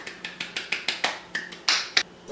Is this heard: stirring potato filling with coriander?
no